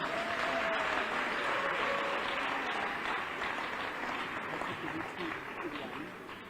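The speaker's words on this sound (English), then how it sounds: "Another round of applause, please." Audience at an International Civil Aviation Day event held by a transport department applauds a minister, steady dense clapping throughout that tapers slightly toward the end, with faint voices mixed in.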